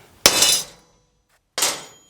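A hammer strikes a center punch on a steel I-beam twice, two sharp ringing metallic clinks about a second and a half apart, close and clear, with silence between.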